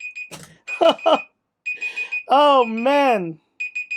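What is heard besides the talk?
annoying alarm going off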